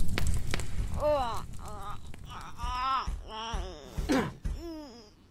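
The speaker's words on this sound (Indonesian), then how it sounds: "ini siapa yang menangis" A wavering, drawn-out crying wail in the video game Evil Nun 2, rising and falling in repeated sobbing phrases, fairly close, with short gaps between cries.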